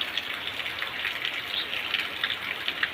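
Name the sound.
steady rain falling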